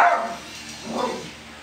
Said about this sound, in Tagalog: Yung aso tumatahol eh.